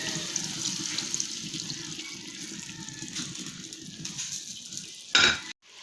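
Water runs and splashes into a cooking pan of humba already seasoned with soy sauce and vinegar, a steady pour that ends with a brief louder splash and a clunk.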